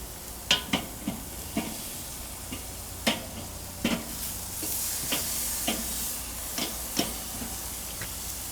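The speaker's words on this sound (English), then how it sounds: "We'll flip them to make sure we get even cooking on all sides." Chicken pieces cooking over an open fire sizzle in a steady background hiss, broken by several sharp scraping clicks and taps as they are turned.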